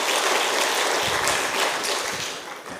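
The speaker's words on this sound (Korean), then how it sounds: "우리 다시 한번" A church congregation at a Friday night healing service claps for a women's mission choir after their hymn, a steady wash of applause that tapers off slightly toward the end.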